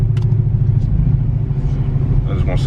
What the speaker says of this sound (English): my exhaust is screaming right now